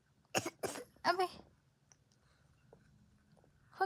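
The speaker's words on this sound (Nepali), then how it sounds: "खोकी लाग्यो" A baby coughing: three sharp, close coughs in quick succession, followed by a few faint throat sounds and small noises in a quiet room.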